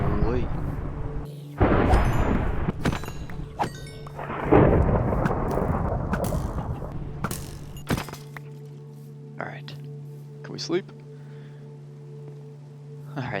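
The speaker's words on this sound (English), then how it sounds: "that should clear up the stinking thunderstorm" Thunder rumbles and cracks through a Minecraft thunderstorm with steady rain, loud bursts in the first half giving way to a quieter background hum, while someone talks over it.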